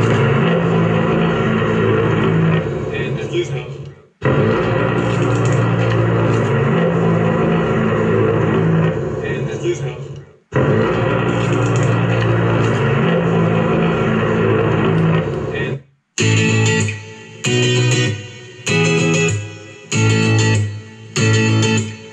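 Music playing loudly through a U-Tube MT3163 Bluetooth speaker, full and dense across the range, running continuously with a few brief gaps and then turning into choppy, pulsing bursts near the end; no voices.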